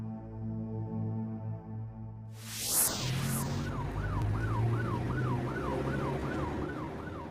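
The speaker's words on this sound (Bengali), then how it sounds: "ওই তো অ্যাম্বুলেন্স গেল" A wailing ambulance siren in a Bengali cartoon sweeps up and down in steady repeated cycles, rising in after a brief pass of a vehicle and sounding loud and close over a low rumbling backdrop of music and road noise.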